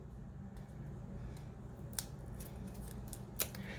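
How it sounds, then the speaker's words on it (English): Scissors snip at the seal of a paint tube in two sharp, isolated cuts spaced more than a second apart, close and crisp against a quiet room. "I'll grab some pokey scissors."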